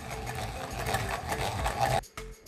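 Soft cooked dal being ground for puran in a kitchen grinder, a steady low mechanical whirring hum for about two seconds, then a stop followed by a short restart.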